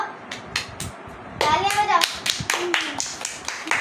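Audience clapping at a funny poetry recital: scattered, uneven claps build into a fuller round of applause, with voices calling out over it.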